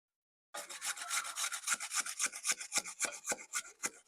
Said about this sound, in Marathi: आता मी आवळा घेतलाय आणि हा मी किसतेय.